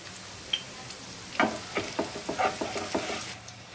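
Gram flour being roasted with spices in a pan for egg masala curry, with soft frying and a series of scraping stirs in a quick rhythm, close and fairly quiet.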